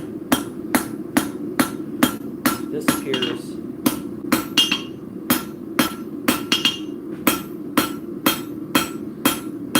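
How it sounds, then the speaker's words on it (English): Blacksmith's hammer striking hot, malleable metal during forging, a steady run of sharp, ringing blows about every half second, close and loud, with a brief spoken word among them. "I got my hammer at an angle."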